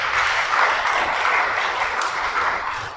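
A congregation applauds during a religious sermon, firm continuous clapping that swells slightly and then fades toward the end of a few seconds.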